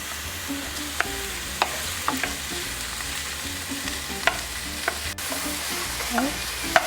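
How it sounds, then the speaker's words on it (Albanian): Onions fry in a pan with butter on the way, cooking gently for a pasta sauce with burrata: a steady, close sizzle broken by occasional sharp clinks and stirring scrapes. "lëm që të skuqen pak, jo të majnë atë ngjyrën e kuqe, por të tretet qepa"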